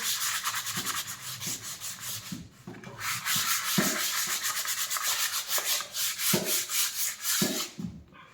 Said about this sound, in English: we're gonna have to just sand and spackle this bit again